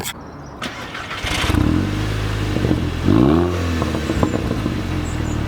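A car's engine runs at idle, then is blipped with a couple of rising revs around the middle, a steady rumbling exhaust note throughout with light clatter; no distinct loud pops stand out.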